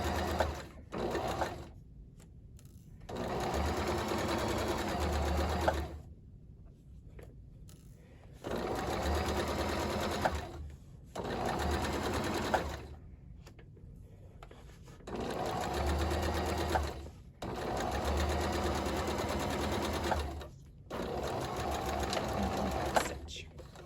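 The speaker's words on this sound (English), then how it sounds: "do not sew over your pins like I did" A sewing machine stitching fabric for a bag runs in several long bursts of steady whirring, separated by short pauses, close and clear, with a voice speaking in places.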